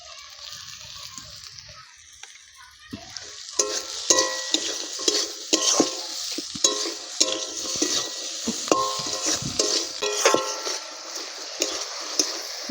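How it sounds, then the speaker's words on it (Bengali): Masala with peas, chopped tomato and green chili being stir-fried, a quiet start giving way to rhythmic scraping and clinking of a spatula against the pan over a steady sizzle, close with no talking. "মশলাটা আমি ভালো করে কষে নেব বন্ধুরা।"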